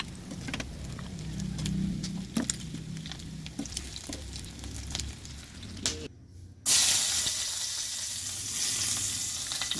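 Squid rings frying in a hot pan of oil, a steady crackling sizzle with scattered pops and stirring clatter, a brief gap, then a louder, brighter burst of sizzling as more goes in.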